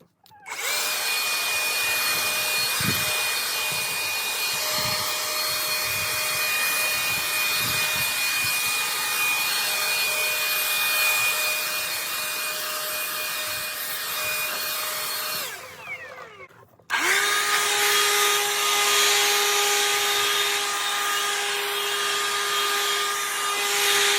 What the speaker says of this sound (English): you just saw me test the two blowers